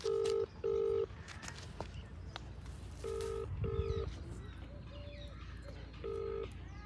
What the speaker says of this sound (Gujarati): એમને ફોન કરું હું